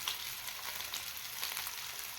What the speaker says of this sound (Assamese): এতিয়া মই নহৰু দিলোঁ আৰু আদা দিলোঁ, কাৰণ কিয় নহৰুটো ভালকৈ ফ্ৰাই হ'ব লাগিব